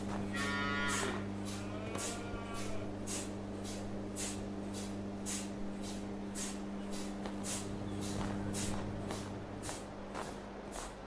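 Cows moo on a farm in the Farming Simulator video game, with low, drawn-out calls over a steady background hum and a rhythmic pattering.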